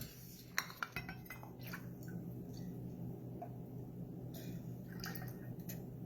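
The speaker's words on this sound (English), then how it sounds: "we're going to actually strain this into the martini glass" A chilled martini strained from a cocktail shaker into a martini glass, with sharp clinks of metal and glass near the start over a steady background of faint trickling and small taps.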